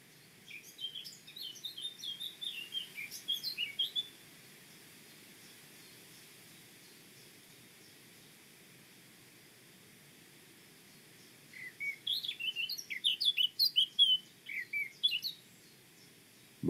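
Blackcap song heard outdoors at moderate distance: two bursts of rich, scratchy warbling phrases, one at the start and one after a quiet gap of several seconds, over faint background hiss.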